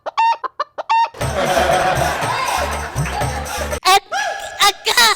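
Rooster clucks in short bursts open and close the scene, loud and close, separated by a dense stretch of crowd noise and music with speech in between.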